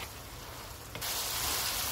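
Spices and beef fry in oil in a pan, giving a steady close sizzle that swells suddenly louder and brighter halfway through, with no talk.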